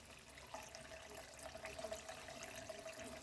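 Water poured into a pan of spicy chicken curry during cooking, a faint, steady splashing trickle lasting a few seconds, with no talk.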